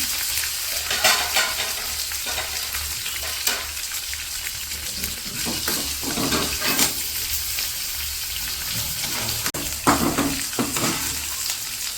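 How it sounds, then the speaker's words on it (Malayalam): Dried red chillies, mustard seeds and fenugreek sizzling in a tempering for a curry, a steady close frying hiss with occasional stirring clatter and scrapes. "ഉണക്കമുളക് ഇവിടെ ഇട്ടു കേട്ടോ കടുക് ഇട്ടു ഉലുവ ഇട്ടു"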